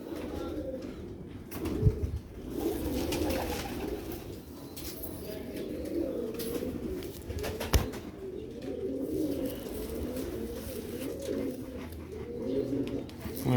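Pigeons cooing steadily in a loft, low rolling coos repeating one after another at close range, with occasional thumps and wing flutters and faint background noise.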